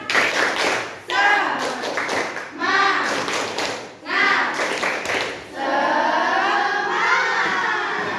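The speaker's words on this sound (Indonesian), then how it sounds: "Tepuk semangat" A class of seventh-grade students does a rhythmic chant-and-clap cheer, with bursts of patterned clapping and shouted voices in quick sets, broken by short pauses, then a longer sustained stretch of clapping and chanting together.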